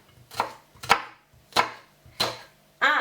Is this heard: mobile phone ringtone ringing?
no